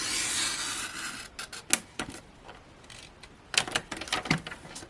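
A paper trimmer blade slides through cardstock in a long, close rasp, followed by a scatter of light clicks and taps as the trimmer and card are handled.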